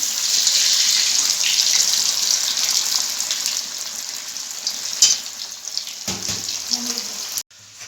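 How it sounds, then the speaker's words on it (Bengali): Potatoes frying in hot oil give a steady, bright sizzle that fills most of the stretch, with a few soft knocks near the end before it cuts off abruptly. "এই যে আলুটা ভাজছে এখন।"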